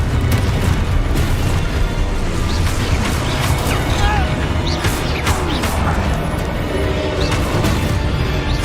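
Repeated blasting-spell explosions in Hogwarts Legacy boom loudly through a dense, continuous din of magical combat, with several sharp bursts and crackling impacts layered over a constant low rumble.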